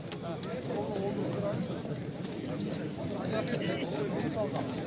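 A prized racehorse's hooves clip-clop at a busy horse market in Nookat, Kyrgyzstan, a steady rhythm half-buried under continuous crowd chatter and nearby talking.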